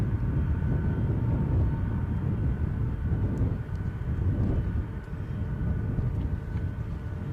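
Steady broadband roar of a 28-year-old airliner at Edinburgh airport on a gusty day, a constant rumble of engine noise and wind with no talk.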